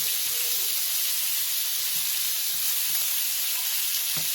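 Lamb chops searing in a hot pan give a steady, loud, close hiss and crackle of sizzling fat that runs unbroken, with no talk.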